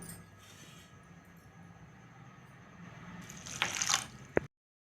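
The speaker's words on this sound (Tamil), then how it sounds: "இப்போ இதில் கொஞ்சம் தண்ணி ஊற்றி நம்ம கரைச்சிக்கலாம்" Water trickles and drips into a vessel of jaggery for dissolving, faint and close, rising into a brief splashing stir near the end before cutting off.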